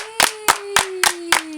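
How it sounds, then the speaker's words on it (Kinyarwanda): Villagers clap for themselves in a slow, even rhythm: six sharp claps spaced about a quarter second apart, close and crisp, with a steady tone sustained underneath. "mwakwiha amashyi rwose"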